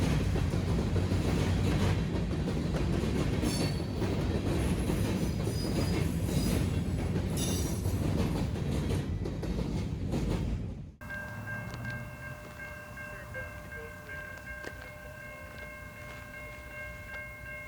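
A freight train rumbles and clatters past nearby for about eleven seconds in Muncie, Indiana, wheels squealing, the locomotive running backwards, then cuts to a quieter scene with steady high whines.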